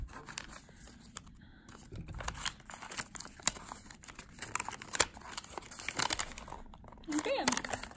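Paper crinkles and creases in quick, soft rustles and sharp little crunches as an origami fortune teller is folded back up, close and fairly quiet, with a voice speaking over parts of it.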